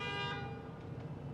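A car horn gives a short honk at the start of a Taco Bell advertisement, a brief bright tonal blast that fades quickly into quieter background.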